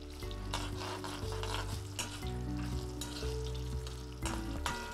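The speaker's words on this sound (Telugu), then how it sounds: "వేయించుకుని కరివేపాకు, సో 2 రెబ్బల కరివేపాకు వేసుకుంటాం." Two sprigs of curry leaves frying in oil, a close, dense crackling sizzle with stirring clatter and pan knocks running throughout the clip.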